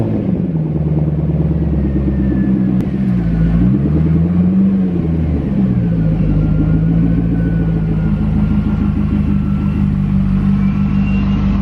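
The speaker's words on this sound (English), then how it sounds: "Cold start, boys." A Corvette engine idles after a cold start on a 29-degree winter day, a steady, loud, close low rumble with a slight swell in pitch partway through and no talking.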